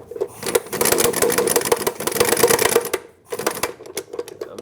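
A bolt being run in on the fuel tank strap of a 2013-2020 Nissan Pathfinder, heard as a loud, close, rapid mechanical rattle of a power driver in two bursts of a few seconds each.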